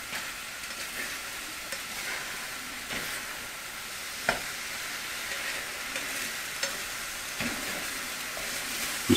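Egg whites sizzle and fry in a pan with a steady soft crackle and a few light clinks of a utensil, no talk.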